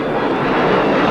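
Jet fighter-bombers of the U.S. Air Force roar loud and close in a steady, dense engine rush with no break, as they dart in to attack.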